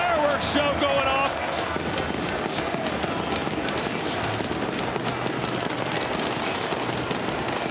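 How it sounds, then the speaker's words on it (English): A fireworks show bursting inside an arena in Riyadh before a boxing fight: dense crackling and popping bangs throughout, with a voice heard briefly at the start. "we see the fireworks show going off"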